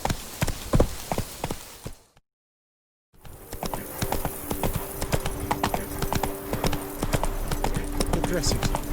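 Hoofbeats of Roach, the horse in The Witcher 3: Blood and Wine, clip-clop in a steady rhythm against game ambience. They are briefly cut by a second of silence, then resume continuously to the end.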